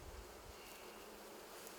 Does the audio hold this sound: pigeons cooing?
no